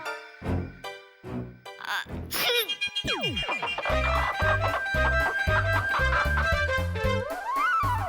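A person imitates a rooster, sounding repeated crowing and clucking calls in short bursts amid comic boings and sliding tones, with speech-like voicing mixed in.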